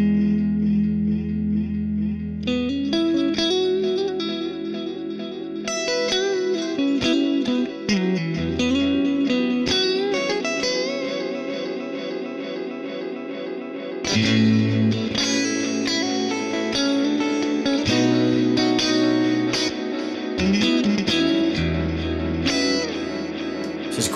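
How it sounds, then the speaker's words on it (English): Electric guitar through a Hughes & Kettner Black Spirit 200 amp with delay set to maximum feedback and mid delay time, loud distorted notes and chords repeating and building into dense, sustained echo trails. "if I go for maximum feedback and the delay time on about half"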